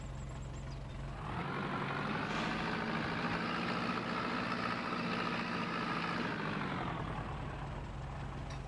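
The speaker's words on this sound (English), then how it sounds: "Jump in the tractor." A tractor engine idles in a farming simulation video game, a steady low rumble that swells louder after the first second, holds a constant drone, then drops back to a quieter idle near the end.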